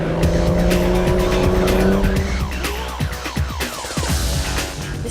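A Jaguar XKR at a James Bond car exhibition revs hard with a loud engine drone, then its tires squeal and skid in repeated sharp screeches, close and continuous throughout.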